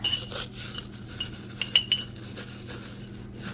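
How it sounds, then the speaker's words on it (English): A fork or spoon stirs and mashes plantain salve in a container, making a few light clinks and soft scrapes against the side, close and sparse. "take a fork or spoon and stir it up a little bit"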